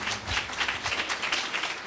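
Congregation at a Christian inner healing retreat clapping hands in praise, a dense, continuous wash of many hands beating together at a steady, fairly loud level.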